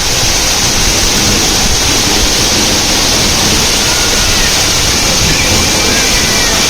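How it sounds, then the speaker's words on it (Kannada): An indoor water feature in Kempegowda International Airport Terminal 2 sends water falling from above, heard as a loud, steady broadband rush with no breaks. "ಮೇಲಿಂದ ನೀರು ಬರ್ತಾ ಇದೆ"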